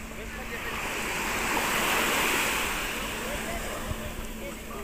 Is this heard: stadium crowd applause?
no